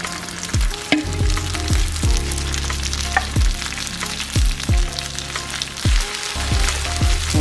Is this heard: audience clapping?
no